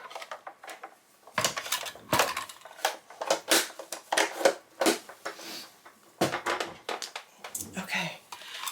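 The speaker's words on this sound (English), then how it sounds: "I'm just going to run this piece through. It almost fit in my small cut and emboss machine" Paper being cranked through a small cut and emboss machine gives a run of close, irregular crunching and clicking bursts separated by short pauses, with a voice speaking at times.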